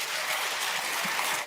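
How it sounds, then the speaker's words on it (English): A crowd applauding, a continuous even hiss of many hands clapping together at moderate distance, holding steady before cutting off abruptly at the end. "That is the sound of people applauding a sociopath."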